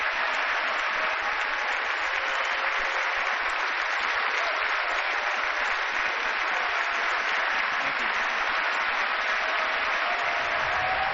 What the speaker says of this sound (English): interrupted by applause, roughly 40 times